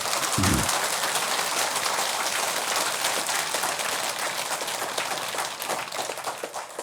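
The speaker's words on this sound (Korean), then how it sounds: "원효대사께 박수 한번 치세요" A lecture audience applauds a Buddhist master's talk with a dense, sustained wash of clapping from many hands, loud and even at first and thinning slightly toward the end, with no speech over it.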